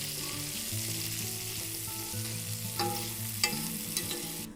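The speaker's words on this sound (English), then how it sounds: "Can you hear the change in sound as the fat renders out of these pork" Pork scrunchions rendering their fat in a pan, a dense steady sizzle and crackle with scattered pops and sharper spits, close and alone with no voices.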